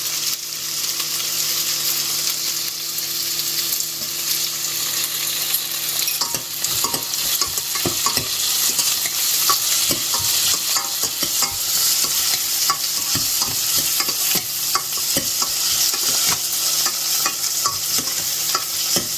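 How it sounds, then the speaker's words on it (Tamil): Okra is sautéed in a pan with curd and salt: a continuous close sizzle runs throughout, with frequent clicks and scrapes from stirring and no speech. "ரொம்ப வழவழப்பாக இருக்குன்னு நீங்கள் நினச்சிங்கன்னா கொஞ்சம் தயிர் ஆட் பண்ணி வதக்கிக்கோங்க."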